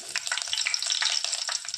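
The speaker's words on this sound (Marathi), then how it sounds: "आता टाकत आहे कढीपत्ता" Curry leaves crackle and sizzle as they hit three to four ladles of hot oil for a tempering, a close, dense spitting hiss with bursts of popping throughout, no talk.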